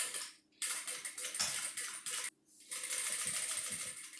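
A sewing machine with a machine foot runs stitches along a zipper on a bag, in two rapid buzzing bursts of stitching separated by short pauses, close and fairly loud with no talk.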